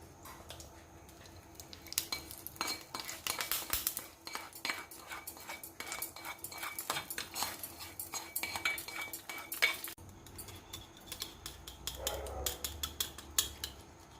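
A spoon clinks and scrapes against a bowl while Kashmiri chilli powder is stirred into dahi vada batter, with quiet, irregular metallic taps and scrapes repeating through the stretch.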